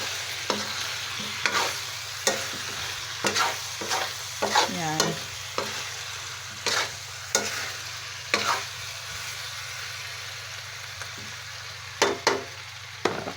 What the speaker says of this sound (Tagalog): Kailangan magisa din muna yung saging at saka patatas.